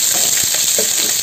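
Cumin, curry leaves, onion and two green chilies fry in hot oil with a brief, close, steady crackling sizzle.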